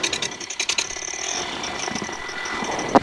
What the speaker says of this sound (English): Cool, engine started.